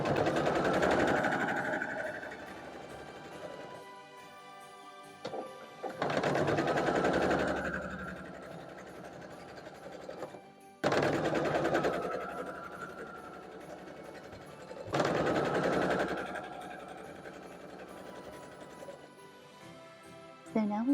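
A sewing machine stitches snowball corners onto quilt block units for a barn star quilt, running in steady bursts separated by brief pauses, with a voice talking faintly in places.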